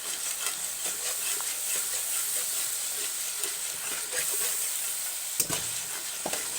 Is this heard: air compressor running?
no